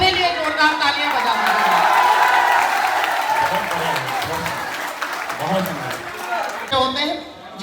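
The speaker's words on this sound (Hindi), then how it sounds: "दोनों हाथ उठा के अपने लिए जोरदार तालियां बजा" A college audience claps loudly at a Hindi comedy poetry performance, with cheers rising through dense, sustained applause and a voice talking over the noise.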